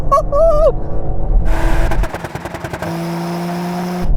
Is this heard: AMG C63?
yes